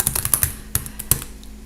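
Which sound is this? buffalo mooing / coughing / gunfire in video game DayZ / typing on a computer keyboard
typing on a computer keyboard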